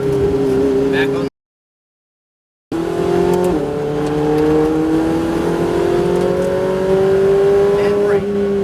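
Ferrari 488 Challenge race car accelerating hard on a track, its engine note rising steadily through the gears with a brief cut in the middle, loud and close, with an instructor's voice talking over it.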